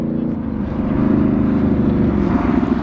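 A Can-Am Renegade XMR 1000R ATV fitted with an SLG Sniper Series exhaust runs steadily, with a loud, close, crisp engine drone that rises slightly and then holds even throughout.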